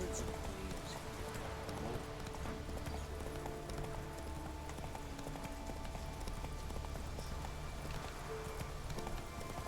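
Roach, a horse in The Witcher 3 video game, gallops with steady clip-clop hooves under a continuous bed of game music and ambience, with no pauses across the run.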